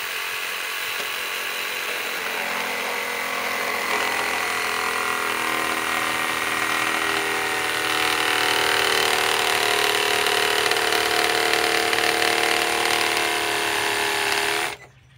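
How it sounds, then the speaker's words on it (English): Metabo CR18DA cordless reciprocating saw used as a jigsaw on a 2-amp battery gives a continuous buzzing, rattling cut that builds slightly in loudness, then stops abruptly near the end. "Not only this is a reciprocating saw, it's also a jigsaw with a 2-amp battery"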